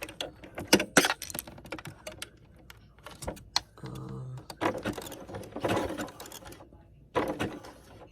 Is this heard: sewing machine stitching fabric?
yes